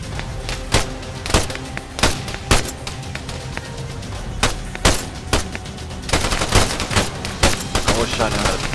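Covering gunfire in Arma 3 rings out as loud, closely spaced shots from several weapons, bursts and single cracks overlapping into a dense fusillade that thickens toward the end.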